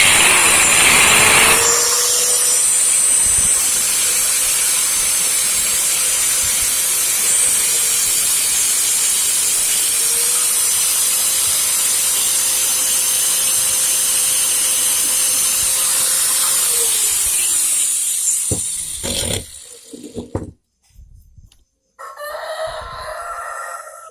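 Handheld angle grinder cutting through a sheet of acrylic, a loud, steady whining roar with hiss that holds for about eighteen seconds, dips briefly midway, then winds down into quiet workshop noise.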